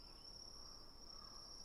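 Crickets chirping at night in a steady, faint high trill that runs continuously without pause, with no talk over it.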